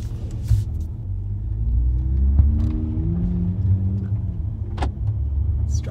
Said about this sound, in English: this car is probably very loud because it doesn't have an exhaust on it